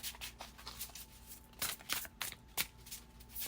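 Realist Oracle cards being shuffled during a tarot-style reading: a steady papery riffle with several sharper snapping bursts, close and fairly quiet, with no voices.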